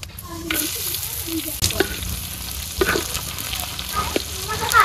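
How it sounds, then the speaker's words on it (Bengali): Onion and garlic drop together into hot oil in a pan, giving a close, crackling sizzle with a sharp burst at the start and scattered spatters and stirring scrapes after it. "তেলটা গরম হয়ে গেছে, পেঁয়াজ রসুন একত্রে দিয়ে দিলাম"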